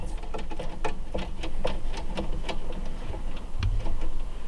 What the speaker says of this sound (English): You may need to use a 1/4 inch nut driver just to tighten it up there.